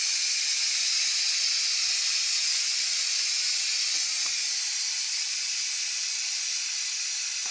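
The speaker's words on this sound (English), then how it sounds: "once I pushed the red button down and it shot up and the steam started coming out" Steam hisses steadily out of the valve of a Power Pressure Cooker XL, a loud continuous rush with a few faint clicks underneath and no talking.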